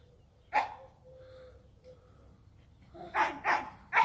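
Several dogs playing and chasing each other, with sharp barks from a larger dog: one bark early, then a quick burst of three or four loud barks near the end, separated by quieter scuffling and a faint whine.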